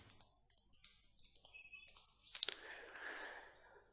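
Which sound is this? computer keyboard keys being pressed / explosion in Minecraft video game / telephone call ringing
computer keyboard keys being pressed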